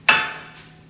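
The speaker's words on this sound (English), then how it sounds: "Okay, I need to spray it though, okay." Cooking spray hisses into a baking pan in one short, close burst, with no talking.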